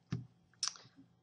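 Computer mouse double-click at a desk, two crisp clicks about half a second apart, close and quiet with no talk.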